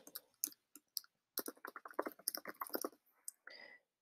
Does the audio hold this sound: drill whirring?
no